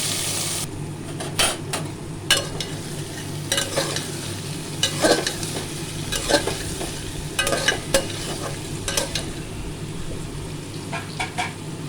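Chopped onion frying and sizzling in a pan with a little asafoetida, stirred with a spatula in a steady series of scrapes over a continuous close sizzle, with occasional clinks against the pan.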